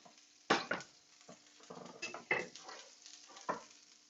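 Eggs frying on a pastrami hash in a pan, with a steady soft sizzle under several louder scrapes and clinks of a utensil moving food around, close by.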